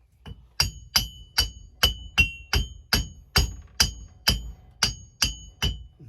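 An axe head being tapped onto its handle held in a vise, about a dozen sharp metallic knocks in an even rhythm, close and clear with short ringing decays.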